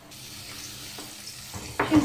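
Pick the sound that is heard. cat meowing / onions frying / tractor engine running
onions frying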